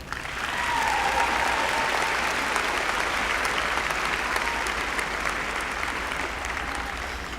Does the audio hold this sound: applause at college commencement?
yes